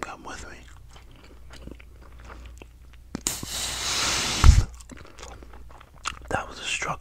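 Bubble gum chewed close to the microphone in whispered ASMR, soft wet smacks and crunchy chews with a louder burst near the middle, under quiet whispered talk.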